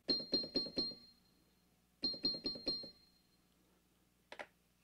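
FM synthesizer tone from stacked operators 3 and 4: two bursts of four quick, bright, bell-like repeated notes separated by a pause, then a faint short blip, clean and close with no talking.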